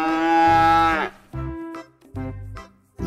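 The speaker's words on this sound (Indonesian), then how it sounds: "Wow, ada sapi Australia teman-teman." An Australian cow moos loudly and close by, with one long drawn-out call followed by two shorter, lower moos and brief pauses between them.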